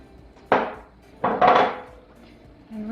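A Spanish tortilla's potato and egg mixture tipped back into a hot pan, two or three soft thuds and scrapes followed by a brief sizzle, close by and without talk.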